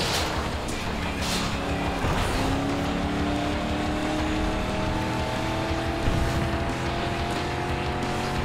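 Racing cars roar through a race in the video game FlatOut 2, with a constant loud engine drone rising through gear changes, under a dense wash of tire and gravel noise.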